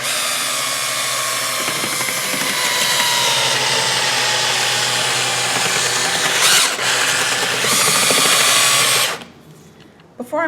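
A power drill fitted with a mixing paddle churns eco stucco powder and water in a bucket, running loud and steady for about nine seconds before cutting off, followed by brief quieter clatter.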